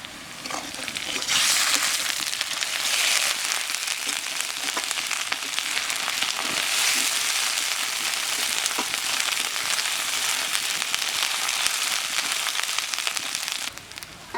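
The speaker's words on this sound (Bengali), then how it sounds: "এখানে দেবো আদা রসুন বাটা।" Ginger garlic paste frying in a pan makes a loud continuous sizzle and crackle, close by, with a few light stirring clicks and no speech.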